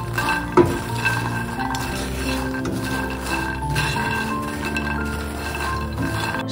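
Makhana (fox nuts) dry roasting slowly in a pan with a little desi ghee, stirred with a utensil: one knock near the start, then soft scraping and rattling over a low steady background, close and moderate, with no talk.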